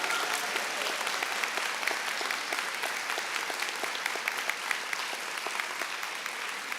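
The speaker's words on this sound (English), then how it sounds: "You may clap." Audience at a school's last-day-of-school awards assembly applauds steadily, a dense even wash of many hands clapping throughout with no break.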